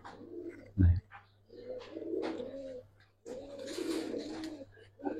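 Cobra-headed silver khaki pigeons coo in low, throaty, repeated phrases close by, with a short sharp knock near the start and faint voices in the background.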